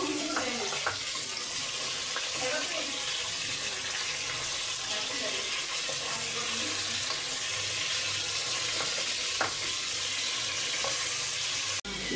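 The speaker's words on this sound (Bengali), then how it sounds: "সুন্দর লাল লাল হয়ে ভাজা হয়েছে" Fish fries in a pan with a continuous, dense hiss and sizzle throughout, broken by occasional faint clinks and scrapes, and a steady hum of background noise underneath.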